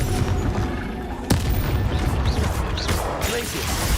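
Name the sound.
Confringo fire curse spell explosion, Hogwarts Legacy video game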